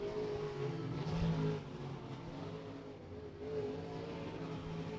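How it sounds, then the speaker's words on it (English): A race car laps Beckley Motor Speedway during Cowboy Classic qualifying, its engine a steady mid-distance drone that swells briefly and then fades, with no voices over it. "Final lap for Hefner"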